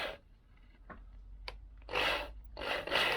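Drill bit turned slowly by hand into a Vespa scooter engine part, a few scraping, rasping bursts with short gaps, close and fairly quiet, growing longer toward the end.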